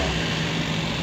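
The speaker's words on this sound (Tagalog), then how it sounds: "So atong i-testingin og revolution mga boss atong i-rev." A Suzuki DA64V van engine with a rough running, shaking and low-power fault drones steadily and loudly up close, a continuous low throbbing hum with no clear rise in pitch.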